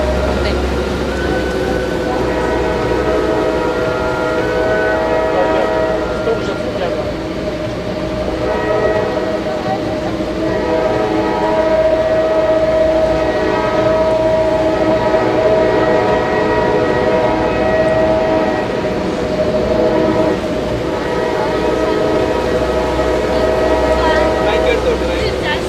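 A train passes on the bridge above the Rhine Falls in Switzerland. Its horn sounds in long, steady tones over the constant roar of the waterfall, and people talk nearby throughout.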